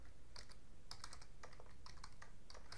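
Quiet keystrokes on a computer keyboard as a Minecraft command is typed, short irregular clusters of soft clicks close by over a faint background hum.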